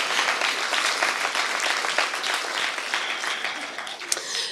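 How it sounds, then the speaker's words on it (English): An audience claps and cheers for an award-winning artist at a prize ceremony, dense continuous applause filling the room from start to finish, with one sharp clap standing out near the end. "So let's just hear one more cheer for her."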